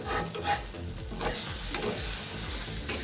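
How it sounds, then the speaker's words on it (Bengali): Cracked wheat (dalia) is fried in a pan and stirred constantly, giving a continuous scraping and rustling over a soft sizzle, close and alone. "আর অনবরত আমাকে কিন্তু এইভাবে নেড়ে ডালিয়াটাকে ভাজতে হবে"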